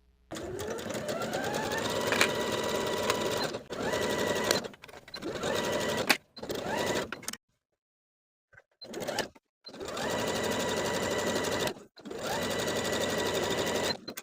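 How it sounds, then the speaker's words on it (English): A sewing machine or serger stitches a shorts gusset to the back shorts piece with a 3/8 inch seam. It runs in long steady whirring bursts separated by brief stops, loud and close, with no talking. "Sew or serge the gusset to the back shorts with a 3/8 inch seam allowance"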